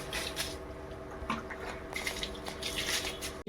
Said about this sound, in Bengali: বন্ধুরা এখানটায় চাল ধুয়ে নিচ্ছি